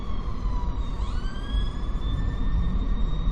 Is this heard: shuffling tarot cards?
no